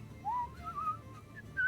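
A voice whistles a light, wandering tune in a few short rising and falling phrases, imitating an ogre whistling to himself while working, soft and close over faint room noise.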